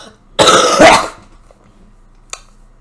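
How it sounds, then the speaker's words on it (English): A person with a throat infection and a cold coughs harshly in a loud burst of roughly a second, close to the mic, then goes quiet apart from one short sharp click near the end. "I have an infection in my throat, and I'm going to cough a lot"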